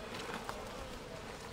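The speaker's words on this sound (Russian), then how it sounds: "пчела тут есть, конечно" Honeybees buzz at an apiary hive in a dense, continuous hum, close and fairly quiet, with no talk over it.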